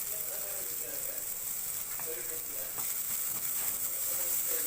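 Chilli parotta sizzling in a pan over high flame, a steady soft frying hiss with faint clinks of a utensil, fairly quiet and continuous.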